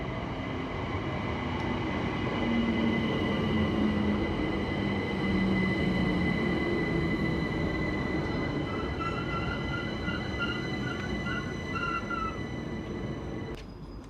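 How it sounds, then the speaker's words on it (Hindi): A train pulling into a station in the UK, a loud, steady rumble of rolling wheels with faint squealing tones and a brief clank near the end. "जी, एक लास्ट हमारी ट्रेन आ चुकी है।"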